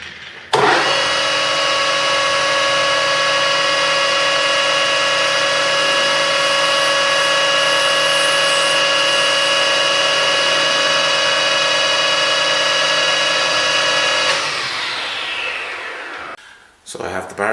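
Metal lathe turning a steel bar, a loud steady tonal whine with strong harmonics running evenly for about fourteen seconds before spinning down and stopping.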